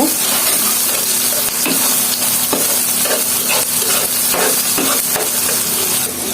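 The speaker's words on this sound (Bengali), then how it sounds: "লবণটা দিয়ে পেঁয়াজ রসুন ভালোভাবে ভেজে নেব।" Onion and garlic fry with salt in hot oil, a continuous loud sizzle broken by repeated scraping stirs of a spatula against the pan.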